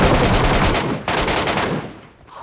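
Heavy anti-materiel rifle fire in the mobile battle royale game PUBG Mobile, loud, dense blasts rolling almost continuously, with one brief cut near the middle and the noise fading toward the end.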